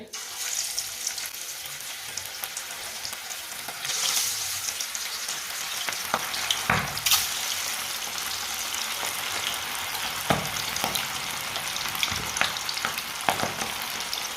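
Fish pieces fry in hot oil, a steady broadband sizzle running throughout with several sharp crackles and pops as individual pieces go into the pan, no talking.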